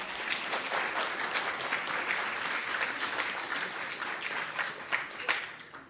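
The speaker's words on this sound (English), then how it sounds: "why don't you give yourselves a round of applause?" Crowd at an inauguration ceremony clapping continuously, a broad, fairly distant wash of many hands with occasional sharper claps standing out.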